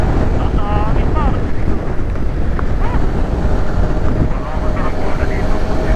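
Strong, steady wind roars and buffets the microphone throughout during a group motorcycle ride, with voices talking underneath.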